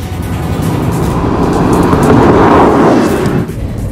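A 2008 BMW M3 coupe in Melbourne red metallic, its 4-liter, 414 horsepower V8 driving, heard as a loud, dense engine roar with road noise, swelling slightly mid-way and easing near the end, no talking.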